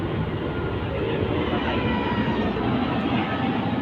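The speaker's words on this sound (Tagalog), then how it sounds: "May eroplano na naman, guys." A Philippine Airlines airplane passes overhead along a flight path near a seaside home, a steady, loud broadband roar that holds through the whole moment.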